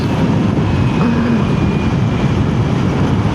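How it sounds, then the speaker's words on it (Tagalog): A 2-stroke motorcycle engine runs steadily and loudly close by, a dense continuous drone with no pauses or talk. "Sarap talaga ng 2-stroke, oh. Sarap ng tunog."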